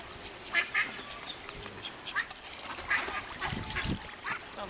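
Ducks quack repeatedly while competing with a pelican for fish at a zoo, several short calls scattered over the clip against a steady outdoor background, with no talk.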